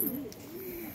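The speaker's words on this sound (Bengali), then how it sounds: "দেখুন পায়রাগুলো।" Pigeons for sale coo softly at close range, a single low, rolling warble that lasts about a second with no talk over it.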